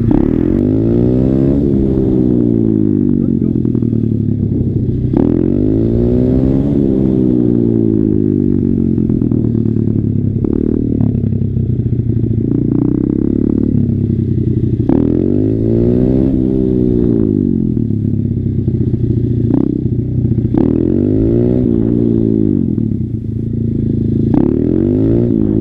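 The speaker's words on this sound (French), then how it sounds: "tous les jeunes du coin ils viennent s'entraîner avec leur moto pour faire des wheelings" Motorcycles revving hard at a wheelie practice spot, engines repeatedly rising and falling in pitch in long cycles, loud and close with occasional clatter and scraping between pulls.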